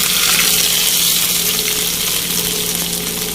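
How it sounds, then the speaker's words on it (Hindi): Hot onion tadka hisses loudly and continuously as it is poured over chicken nihari, a dense, steady sizzle that slowly settles without any talk. "यहाँ हमने इसमें प्याज का तड़का लगाया है"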